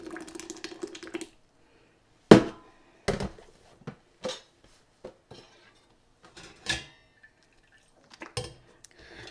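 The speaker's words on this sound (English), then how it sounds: "we're going to strain this pureed guava mixture" Metal scraping and clinking of a utensil pressing pureed guava through a super fine strainer into a clean pot, in short irregular bursts with quiet gaps, close and fairly loud.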